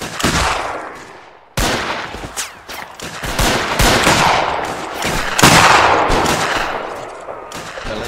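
Rifle volleys crack out from a skirmish line in a Boer War battle in the Mount & Blade video game, a rapid, overlapping string of loud shots with sharp onsets and echoing tails.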